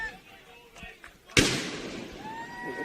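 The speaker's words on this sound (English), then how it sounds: "Barton with the fireworks going on" Fireworks go off at an outdoor youth baseball game, a sudden loud bang followed by a long crackling fizz that slowly fades, with a few faint pops before it and people talking nearby.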